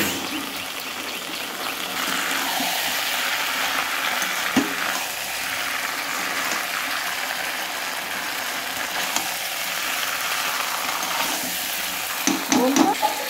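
Fried vegetables hit fried spice paste in hot oil, giving a soft, continuous sizzle with a few clatters of stirring, a moderately quiet background hiss.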